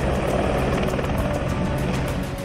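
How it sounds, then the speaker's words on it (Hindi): An Indian Dhruv military helicopter in flight during a joint tri-service commando drop, its rotor giving a steady, loud broadband roar with a faint regular chop throughout, no voices. "दूसरा ध्रुव हेलीकॉप्टर थल सेना, वायुसेना और नौसेना के कमांडोज को ड्रॉप करता है"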